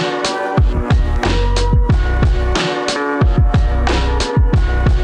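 A punchy boom bap hip-hop beat with deep booming kicks and crisp snares plays in a steady, loping rhythm over a looped melodic sample.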